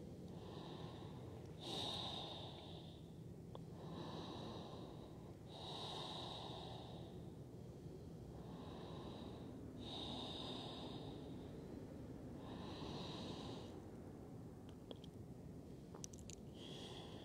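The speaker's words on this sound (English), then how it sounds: "About 5 more full breaths here" Deep, slow breathing during a Forrest Yoga hips-and-twists practice, about five full breath cycles with airy inhales and exhales at an even rhythm, close and soft with no talk.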